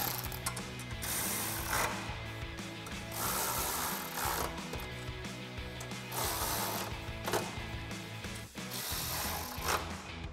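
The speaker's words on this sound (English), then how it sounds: "we'll tighten these down with our 10 millimeter socket" A ratchet with a 10 millimeter socket tightens bolts during a Toyota Tundra TRD suspension lift install, giving steady rapid clicking in repeated strokes, close and loud, with no talking.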